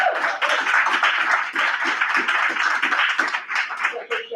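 Applause for council members at a township municipal council meeting, a steady 4-second patter of claps from a modest room audience, fairly close and continuous without a break.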